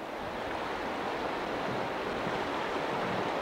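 Floodwater from the 1992 Lytle flood rushes steadily at a diversion point where the flow splits, a continuous broadband roar with no pauses, close and fairly loud.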